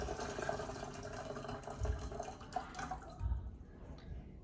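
Water poured at home while mixing a wig and hair bleaching mixture, a fairly quiet, continuous trickling and splashing that tapers off toward the end, no speech over it.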